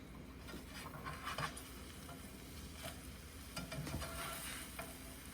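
Breakfast skillet sizzling in a pan while it is shaken and stirred, a steady faint fry with scattered scraping and rattling bursts, no talk.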